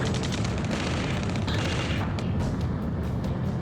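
Gunfire and explosions in Ace Combat 7, booming continuously and loud without pause, a dense layer of battle noise with heavy low rumble throughout.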